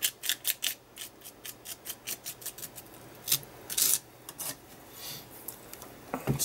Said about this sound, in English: scrape a bit more down towards the bottom, just fill those corrugations